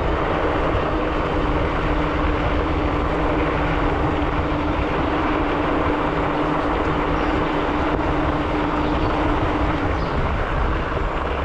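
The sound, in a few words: Himiway Cobra electric bike motor accelerating up a hill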